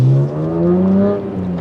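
A BMW E46 M3 with its S54 straight-six engine, a race car, gives a loud, close, steady smooth engine drone with a slight rise and fall in pitch, with no voices.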